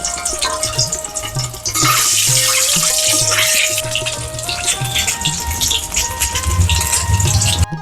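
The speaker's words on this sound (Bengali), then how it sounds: "এখন ডিম দুটো তেলে ছেড়ে দিই" Two eggs frying in shallow hot oil in a village kitchen, a bright continuous sizzle that swells after the first couple of seconds and carries on steadily, with tonal music playing underneath.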